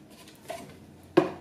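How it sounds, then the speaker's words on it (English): Plastic adapter of an Oster Versa Performance blender locking onto the bowl: a small scrape, then one crisp, close click near the end, followed by a second brief tap, with no talking. "To put the adapter on, place it down, and just turn the bowl. You'll hear that click and you know that it's locked on."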